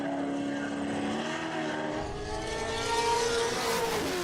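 A race car on a King of the Mountain hill climb run screams at high revs, the engine note climbing and wavering as it passes, loud and sustained over a short stretch without talk.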